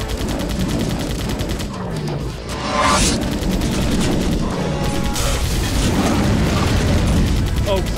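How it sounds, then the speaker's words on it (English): A powerful gun in the Vivisector: Beast Within video game fires in heavy, booming bursts amid continuous explosive combat noise and loud game audio, with a voice speaking over it. "that is a gun"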